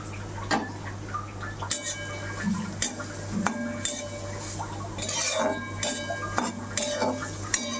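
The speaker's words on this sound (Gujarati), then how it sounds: "ઘીમાં શેકી દેવાનું બીટ" Grated beetroot is stirred and roasted in hot ghee, with a spoon clinking and scraping against the pan in irregular, close taps over a low steady hum.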